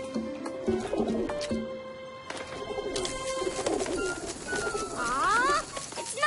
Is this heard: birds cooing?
yes